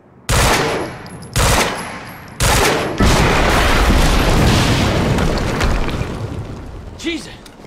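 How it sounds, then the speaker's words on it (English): In the video game Quantum Break, three heavy booms strike in quick succession, then a sustained roar of gunfire and rumbling explosion slowly fades, ending with a short voice. "We just heard an explosion near the harvesting perimeter."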